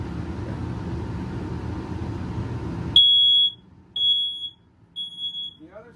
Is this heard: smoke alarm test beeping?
yes